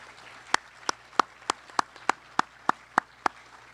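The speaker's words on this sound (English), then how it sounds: "how about just a round of applause for sticking it out?" Slow, evenly spaced claps from just a hand or two at a spring sports awards ceremony, about ten crisp separate claps, fairly faint and close.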